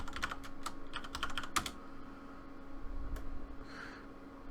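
Quick clatter of computer keyboard keys as a password is typed, a short burst of close, crisp taps followed by a couple of isolated presses in a quiet room.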